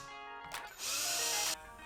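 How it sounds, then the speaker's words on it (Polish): A small drill whirs briefly into a smartphone screen protector, rising to a steady high-pitched whine for about a second before cutting off, close and fairly quiet. "Wiertełko także wchodziło jak w masło."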